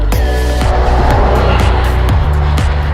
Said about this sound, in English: Tons of traffic